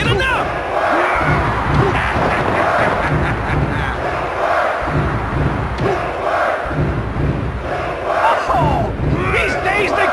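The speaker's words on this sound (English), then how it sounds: "To quote Vince, listen to this capacity crowd." A large arena crowd in the wrestling video game WWF Attitude roars and cheers continuously, loud and steady, with occasional thuds and a commentator's voice faintly underneath.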